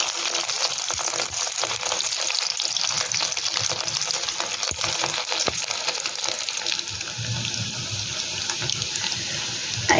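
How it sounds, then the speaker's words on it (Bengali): Egg balls frying in hot oil, a continuous crackling, hissing sizzle with scattered sharper pops, close and steady throughout, with no voices. "আমি অল্প অল্প করে ভাজছি"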